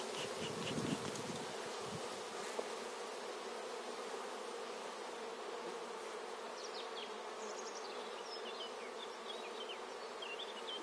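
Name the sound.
honey bees buzzing around an opened hive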